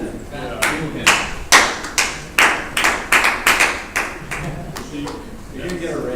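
A handful of people in a meeting room clap in scattered, uneven bursts, a dozen or so sharp hand claps spread over a few seconds, close and fairly loud, with a faint murmur of voices underneath.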